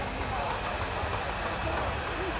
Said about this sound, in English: a Burrell traction engine that's had a repaint and a titivate up over the last couple of years